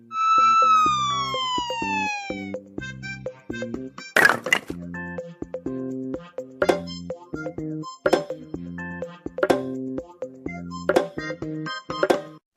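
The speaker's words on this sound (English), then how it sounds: "Police car." A toy vehicle puzzle plays an electronic police car siren, a loud wailing tone that sweeps downward for a couple of seconds, followed by a bright chime and a run of short, bouncy synthetic jingle notes with sharp clicks.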